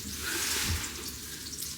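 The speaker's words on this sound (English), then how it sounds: "patties on the frying pan" A steady, crackling hiss of burger patties with black pepper frying in a hot pan, continuous and fairly close, with no voices.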